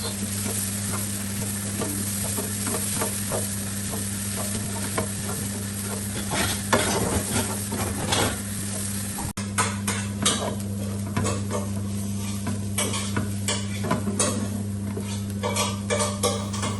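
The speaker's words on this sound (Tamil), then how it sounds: "இனி எல்லாத்தையும் சேர்த்து நாங்கள் கலந்து விட்டு கொள்ளுவோம்" Leeks and egg being stirred together in a frying pan, with continuous spatula scraping and clatter against the pan over a soft sizzle and a steady low hum, no talking.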